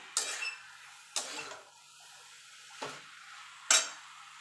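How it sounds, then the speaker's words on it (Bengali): Boiled jackfruit being mixed with spice paste in a pan, four separate scraping stirs with a quiet background between them. "দিয়ে ভালো করে মশলাটা ইঁচড়ের সঙ্গে মিশিয়ে নেব"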